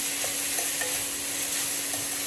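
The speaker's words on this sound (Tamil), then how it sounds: "ஒரு வதக்கிக்கலாம், நல்லா வதங்கட்டும்." A paneer momo filling sautés in a pan with a steady, close frying hiss and faint scrapes of stirring, with no voices.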